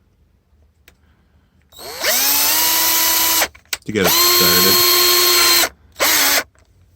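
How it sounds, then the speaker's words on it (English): Two bursts of a power drill whirring at high speed, spinning up and cutting through plastic, with a short pause between them and a brief voice at the start. "everybody's got their way of drilling a hole through plastic"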